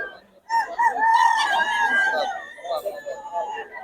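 A bullstag rooster at a gamefowl sale gives one full, close, loud crow, followed by a short trailing call.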